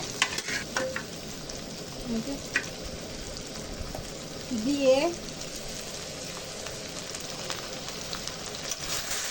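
Boiled mutton trotters frying with spices in a pan, a steady close sizzle with stirring scrapes throughout, a spoon clanking briefly against the pan midway.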